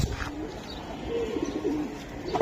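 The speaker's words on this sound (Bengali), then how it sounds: "কবুতরগুলো আমি দেখাই" Caged pet pigeons, including brown-necked pairs at a pigeon sale, give soft, low throaty coos that repeat and overlap against a light background hum.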